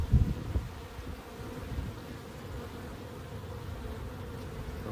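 Honeybees hum steadily around a hive during an inspection after a holiday, a soft, continuous buzzing with no voices, while a possible case of honey robbing is suspected.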